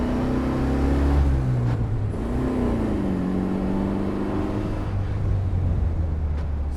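A classic Austin Healey 100 M spec engine labors as the car pulls away in third gear, a deep rumbling drone whose pitch rises and dips with throttle, steady and close from inside the car.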